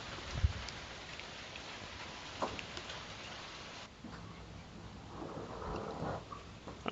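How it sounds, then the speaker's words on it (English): Heavy rain pours outside a house as a steady, dense wash of patter heard from indoors, with occasional heavier drops and low rumbles rising and falling throughout. "it just started raining outside really heavy"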